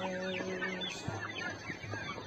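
Chickens in a farmyard coop making noise, with overlapping clucks, short squawks and calls from several birds close by, a busy, continuous flock chatter.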